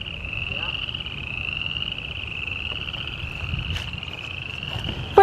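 Frogs near a metal bridge keep up an unbroken shrill trilling chorus, steady throughout, with faint background movement and a brief voice at the very end.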